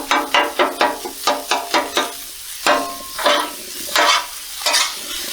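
Sausage, onions and mushrooms frying on a Blackstone griddle, with a steady sizzle under rapid rhythmic spatula scrapes that slow to a few louder, spaced strokes.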